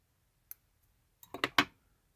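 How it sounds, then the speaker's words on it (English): Small scissors trimming the tips off fly-tying material at a tying bench: a single faint snip, then a quick close cluster of three or four crisp cuts, with nothing else around them. "I'm just going to come in and trim the tips off"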